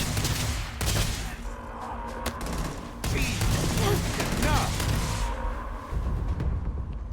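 Sci-fi weapon fire in Starfield during a Terrormorph attack on New Atlantis: dense, continuous volleys of energy shots over a rumbling battle bed, loud and close, with distressed voices intermittently shouting over it.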